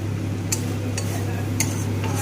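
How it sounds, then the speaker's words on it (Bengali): Spiced masala is sautéed in a pan for a capsicum and small-potato aloo dum, a spatula scraping and clinking a few times over a low, steady background hum. "মশলাটাকে ভালো করে কষিয়ে নেব"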